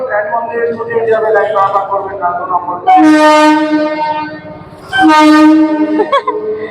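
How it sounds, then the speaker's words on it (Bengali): A train pulls out beside a rail-side market, giving two long, loud horn blasts with a rumble under them while someone talks over the scene. "এখন ট্রেন ছাড়বে ওই দেখো দাঁড়াও ট্রেনটা ছাড়ুক"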